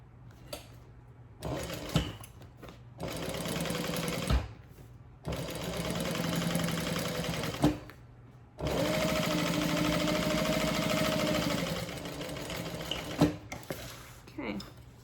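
Sewing machine back stitching a handbag runs in several bursts of rapid mechanical whirring, separated by short pauses, close and fairly loud.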